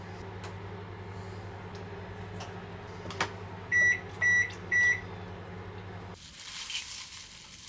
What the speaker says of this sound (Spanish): voy a empezar a cortar la calabaza y la voy a meter en el microondas para cocerla